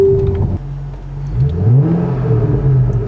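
A simulated car engine in a Ford VIRTTEX driving simulator revs and climbs in pitch, dips, then rises again in a sustained throaty whine, loud and close, with no talking.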